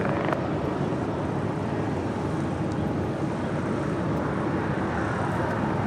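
A jet airliner on approach to land at LAX, inbound from San Antonio, Texas, gives a steady, broad engine roar with rumbling lows that hold at an even level throughout, with no voices over it.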